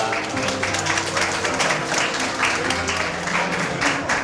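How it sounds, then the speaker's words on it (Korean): Wedding guests applaud the bride and groom's ceremonial bow, sustained crowd clapping at steady volume over soft background music. "박수 부탁드리겠습니다"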